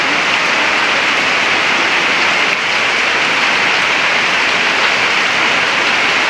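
Sudden heavy summer downpour behind a house, heard from indoors: a dense, steady roar of rain with no letup, loud and even throughout.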